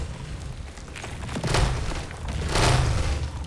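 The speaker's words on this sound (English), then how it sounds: "there's a lot of explosions going on around here" Explosions in the Fallout video game erupt in two heavy, roaring bursts about a second apart, loud and close, with deep rumbling low end over a constant dense background of in-game noise.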